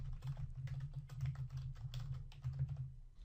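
Steady rapid keystrokes on a computer keyboard while someone types a short line of text for a first website, each key clicking close and clear in an even rhythm throughout, with no speech.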